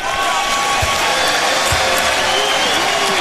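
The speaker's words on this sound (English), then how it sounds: "And everybody applauding here." Steady applause and crowd noise fill a college basketball arena during a Syracuse–Connecticut NCAA game in 2009, loud and continuous, with a couple of dull thumps beneath the broad wash of clapping.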